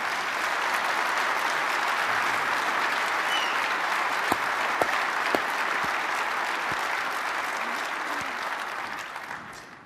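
Sustained applause from a large conference crowd, steady and loud for several seconds before beginning to fade, with a few sharper claps standing out.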